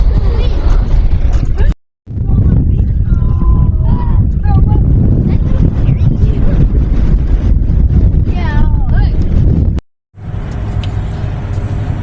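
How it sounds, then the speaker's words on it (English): Strong wind near the New Mexico border buffets the microphone with loud, rumbling gusts from start to finish, while people talk underneath and the noise briefly drops out twice. "It's super windy."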